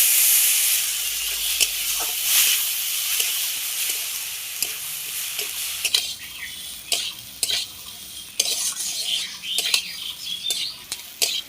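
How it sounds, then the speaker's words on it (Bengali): Gobindobhog rice fries in hot oil with a pinch of turmeric, a soft continuous sizzle and hiss broken by frequent scraping stirs of the spoon against the pan, with no talking. "গোবিন্দভোগ চালটা ভেজে নেব"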